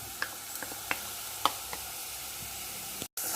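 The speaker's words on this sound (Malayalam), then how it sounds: "ഇനി നമ്മൾ നേരത്തെ തയ്യാറാക്കി വെച്ച അരപ്പ് ഇതിലേക്ക് ചേർക്കുകയാണ്." Ground masala paste hitting a hot pan for Kerala egg roast, giving a steady soft sizzle with a few sharp pops and spatters, close and fairly quiet, with a brief dropout near the end.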